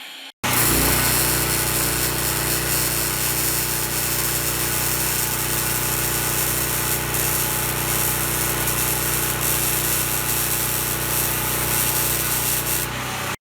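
Arc welding on a metal bracket during fabrication work: a continuous, loud, close crackling hiss that starts abruptly after a brief silence and holds steady for over twelve seconds, with no talking.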